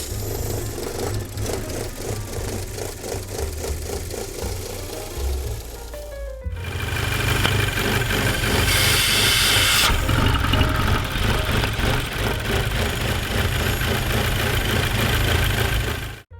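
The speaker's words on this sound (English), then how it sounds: "you can see when you remove the oil cap from the engine while it's running" Audi VW 2.0T engine with a damaged PCV valve idling with its oil cap removed, a loud close steady mechanical rumble with a rhythmic pulsing and a sudden surge of hissing noise partway through, no voices.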